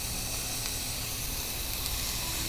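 Onion and peppers fry in a pan over a high flame, giving a steady, dense hiss and sizzle that stays even and close throughout with no voices.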